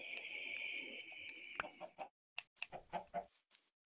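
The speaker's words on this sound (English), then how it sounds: "I gotta get these chickens" Minecraft chickens cluck in a quick run of short, separate calls after a sustained high tone, close and fairly quiet.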